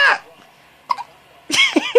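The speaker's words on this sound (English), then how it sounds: "You got the hiccups?" Two-week-old baby hiccuping, a few short sharp catches spaced through the moment, close and fairly loud, with brief vocal sounds around them.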